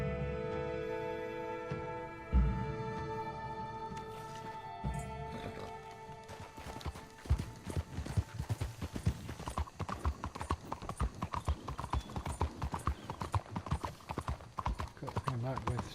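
Hooves of a racehorse gallop in Red Dead Redemption 2, a quick, steady clip-clop that starts near the middle and keeps going loud and close to the end, with a game character's voice heard near the start.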